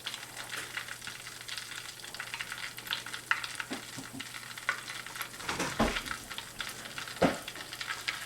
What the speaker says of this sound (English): And it's starting to sizzle really good.